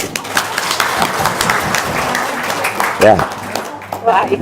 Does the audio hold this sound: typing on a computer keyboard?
no